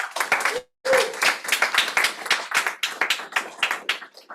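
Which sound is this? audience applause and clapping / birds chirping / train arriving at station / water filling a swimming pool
audience applause and clapping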